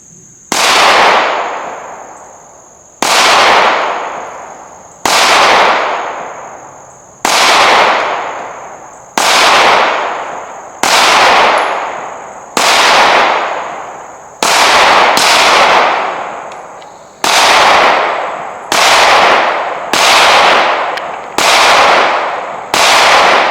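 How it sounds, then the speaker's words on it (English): Twelve sharp, loud pistol shots from a Walther PDP Pro SD Compact fired at a 12-yard target on an outdoor range, spaced a couple of seconds apart, each ringing out and decaying before the next. "I'm gonna shoot for the dead center of that target"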